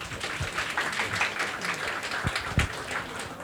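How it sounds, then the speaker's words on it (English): Audience applause at the grand final of a Bulgarian startup pitching competition, a moderately quiet, continuous spread of many hands clapping across the whole stretch. "So a big applause for you for being here."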